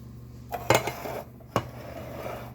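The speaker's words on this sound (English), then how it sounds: "I'm going to go in with the petite tomatoes that had the garlic and the olive oil" Canned petite tomatoes with garlic and olive oil tipped into a cooking pan, a couple of sharp metallic clanks of can and utensil against the pan, close and brief, with no talk.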